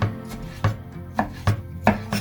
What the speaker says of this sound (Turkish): Domatesimizi de doğradık